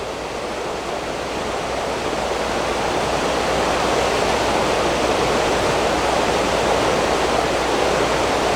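Continuous rushing water of a small creek in a state park, a steady broadband wash like a small cascade, close and unchanging for several seconds.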